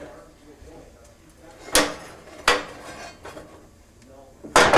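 A mesquite bread loaf being flipped out of its baking pan, heard as three sharp metallic knocks and clanks of the pan, loud and close, spaced over a few seconds.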